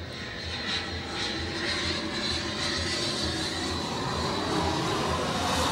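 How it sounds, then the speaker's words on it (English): A Learjet aeroplane passes overhead, its steady broadband engine roar holding at a fairly constant level throughout, with no talk. "Yep, it is. It's a Learjet."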